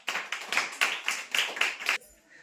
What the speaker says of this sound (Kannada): ವೆರಿ ಗುಡ್, ಜೋರಾಗಿ ಚಪ್ಪಾಳೆ ಬರಲಿ.